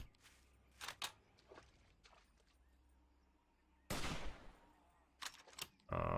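Gunfire in the survival video game 7 Days to Die: a few sharp, loud broadband shots standing out from quiet ambient background, with scattered softer impacts between them.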